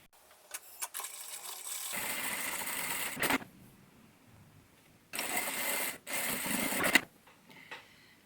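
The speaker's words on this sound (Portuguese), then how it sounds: "E passar também uma costura nessa bordinha aqui." Sewing machine stitching a seam along the edge of a fabric tote bag runs in two steady whirring bursts of a second or so each, after a few clicks and brief stops, close and fairly loud.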